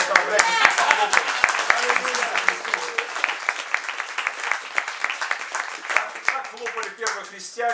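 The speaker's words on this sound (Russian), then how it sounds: "они руками хлопали Господу Иисусу Христу" An audience at a church gathering claps hands, crisp irregular claps at first that build into a dense, sustained round of applause, with voices faintly underneath.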